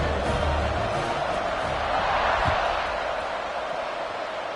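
Football stadium crowd roaring before a kickoff, a dense continuous wall of cheering and noise, loud and steady throughout, with a commentator's voice underneath.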